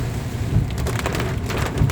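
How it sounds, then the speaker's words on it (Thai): Heavy rain pours down in a loud, dense, continuous roar of drops striking hard surfaces, close and unbroken, with slight surges in intensity and no speech. "มัน ฝนตกแรงมาก มืดเลยมองไม่เห็น"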